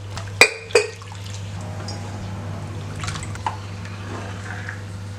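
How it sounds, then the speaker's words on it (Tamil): Water poured into milk in a pan while making rava milk payasam: a couple of sharp splashy drips open, then a steady, soft liquid trickle and pour continues close by over a low electrical hum. "இதில் ஒரு 200 ml அளவுக்கு தண்ணி ஊற்றிக்கலாம்."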